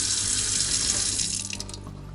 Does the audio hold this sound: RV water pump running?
yes